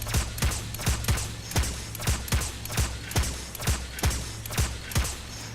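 A gun in the shooter game Destiny 2 fires single shots in a steady rhythm, about thirteen sharp cracks over a few seconds, loud and close, with a low mechanical hum underneath and no talking.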